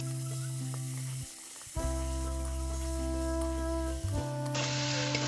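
Mutton pieces, potatoes and ground spice paste being mixed in a pan, with a steady loud sizzle broken by a short lull and low droning hum throughout.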